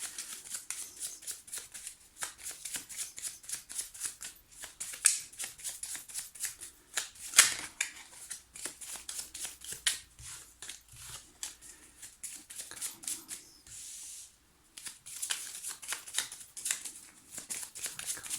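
Tarot cards being shuffled by hand in a quiet room, a steady run of crisp riffling and slapping bursts with brief pauses, close and alone without talk.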